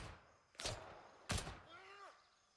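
Two loud, close gunshots about three-quarters of a second apart in the video game Gray Zone, fired from a 9mm weapon, each with a sharp crack and short decay, followed by a faint falling whine.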